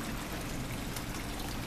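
Water runs steadily into a predator-fish pond during a water change, a constant close rushing trickle with no pauses and no speech.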